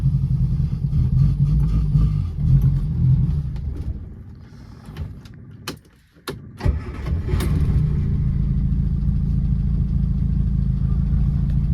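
A classic Volkswagen Polo's engine runs loud and steady, dips to near quiet with a few sharp clicks and a brief catch, then settles back into an even, close idle.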